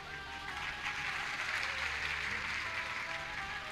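An audience at a devotional religious discourse claps, a continuous, moderately loud wash of applause with a low hum beneath it.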